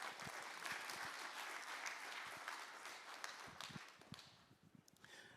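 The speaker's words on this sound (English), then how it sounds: "Let's give them a round of applause" Sustained applause from an audience at a startup pitch event fills the room, dense clapping with a few louder claps standing out, tapering slightly toward the end.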